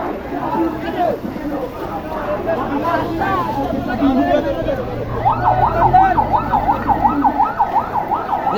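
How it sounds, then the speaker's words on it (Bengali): Wailing ambulance siren rising and falling in a steady cycle, growing louder over traffic rumble while people talk nearby. "অ্যাম্বুলেন্স আয় পড়ছে"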